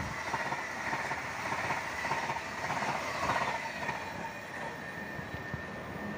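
A high-speed KCJB track inspection train runs past at around 350 km/h, giving a fairly faint, rumbling whoosh of rail and wheel noise that swells and fades over a few seconds with no talking.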